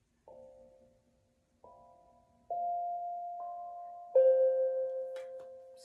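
A small hand bell struck several times in a quiet room, each clear ringing tone hanging and decaying before the next, the last strikes louder and more sustained.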